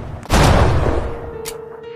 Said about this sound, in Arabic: فرفع البندقية عليه وقتله في الحال